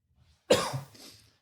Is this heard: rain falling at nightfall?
no